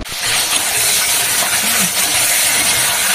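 Pointed gourd pieces coated with salt and turmeric fry in hot oil, giving a loud, steady, close sizzle that hisses without a break.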